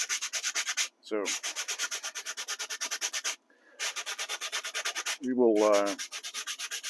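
An M1 helmet liner sanded by hand with 80 grit sandpaper, a close, loud, rapid rhythmic rasping of back-and-forth strokes in long runs, broken by two short pauses where someone speaks briefly.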